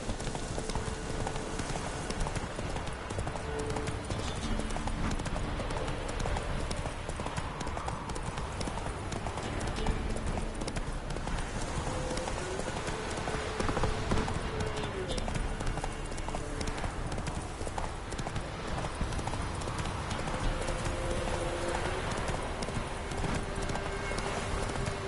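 Roach the horse galloping in The Witcher 3, fast continuous hoofbeats thudding over a dense game soundscape, with a voice briefly heard.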